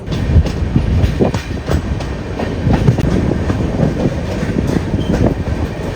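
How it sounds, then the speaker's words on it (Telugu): A train entering Birur Junction rumbles steadily with a continuous rolling roar and faint rhythmic clatter of wheels on track, loud and close throughout. "సో ట్రైన్ బీరూరు జంక్షన్ లోపలికి అయితే ఎంటర్ అవుతుంది."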